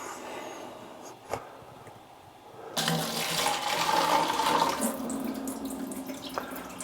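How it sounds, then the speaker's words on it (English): Liquid from a yeast starter made with expired liquid yeast is poured out in one go, a steady splashing gush that starts abruptly partway through and runs loud and close to the end, after a quiet stretch with a single knock. "So I will pour out this now in one go."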